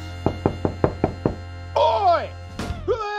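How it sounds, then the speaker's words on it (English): Several sharp knocks on a door in a quick, even series are followed by a voice reacting loudly nearby. "Who the hell's knocking on me door this time?"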